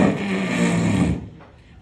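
A comedian on stage vocally imitates a friend's wet fart: a loud, sustained sputtering, blubbering noise made with the mouth lasts about a second, then cuts off into quiet room sound.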